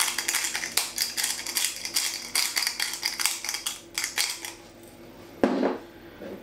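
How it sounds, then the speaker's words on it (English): A pepper mill grinds black pepper over a corned beef and potato stew, a run of quick, dry, crackling grinding bursts that tapers off, followed by a single louder clunk. "we'll give it a final grind of black pepper"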